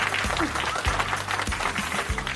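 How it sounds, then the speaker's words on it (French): Applause played as a sound effect in a dubbed television drama, a continuous spread of clapping under low background hum for a couple of seconds. "Vous pouvez lancer les applaudissements, JJ"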